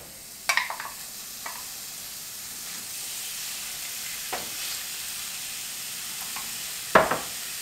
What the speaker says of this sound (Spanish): Aquí vamos a agregar el bistec que ya lo tenemos partido en tiritas o en cuadritos